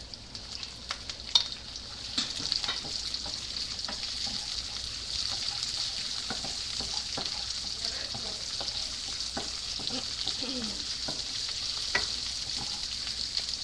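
Onion and Scotch bonnet pepper frying in a pan for peppered shrimp, a steady close sizzle with scattered clicks of a utensil against the pan, running alone without talk.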